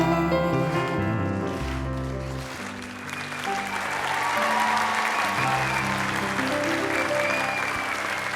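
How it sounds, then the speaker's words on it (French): A TV studio audience bursts into sustained applause after a duet, with musical tones fading out at the start before dense clapping swells and holds steady to the end. "mesdames, messieurs, vous pouvez l'applaudir encore plus fort"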